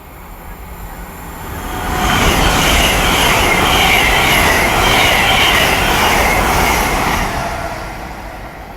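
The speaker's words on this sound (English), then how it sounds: "One is a pass, Great Western Railway service from London Paddington to Swansea." A Great Western Railway Class 802 unit on the London Paddington to Swansea service speeds through Ealing Broadway station without stopping, its roar swelling quickly, holding steady with rushing wheel noise and a high squeal, then easing away.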